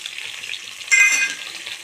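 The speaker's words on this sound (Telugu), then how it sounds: "వేసుకొని చక్కగా ఫ్రై చేసుకోవాలండి" Chillies, garlic and ginger sizzle and fry in a pan for coconut chutney, a close, steady hiss that swells briefly when the pan is stirred, with no talking.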